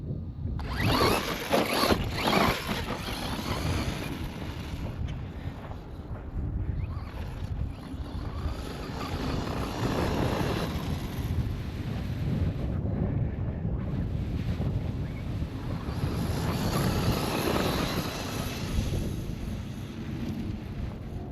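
An FMS Ford F-100 brushless RC truck drives off-road, a steady near whirring rush mixed with gritty crunching and buffeting wind across the whole stretch, with brief louder surges.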